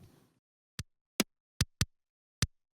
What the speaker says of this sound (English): It should just sound like little tick sounds.